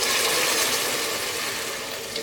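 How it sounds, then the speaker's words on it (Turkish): Steady rushing pour of water into a pot of vegetables with frozen peas for sour meatball soup, a continuous close splash lasting a couple of seconds with no talk. "Şimdi suyunu ilave ediyorum."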